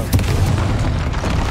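A Confringo fire spell bursts in Hogwarts Legacy during a troll fight, a loud booming blast with a deep rumbling body that sustains for over a second, with no speech over it.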